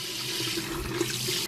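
Water sprays steadily from a detachable sink faucet set to shower mode in a modern Japanese apartment bathroom, a continuous hissing rush at close range with no voices.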